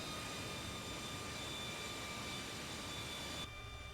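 An AV-8B Harrier jet in Microsoft Flight Simulator taxis with a steady, quiet engine whine and high tonal hum, constant throughout and cut off abruptly just before the end.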